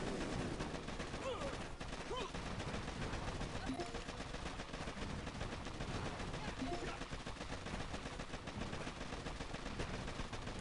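Gunfire and rocket blasts from troops battling in the mobile strategy game Boom Beach, a dense continuous stream of rapid shots and explosions with game effects throughout, while a person talks over it.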